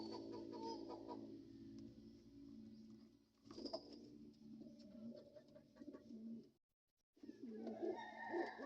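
Pigeons cooing close by after being bathed, low rolling coos repeating in several overlapping phrases, with a brief gap before a louder burst of cooing.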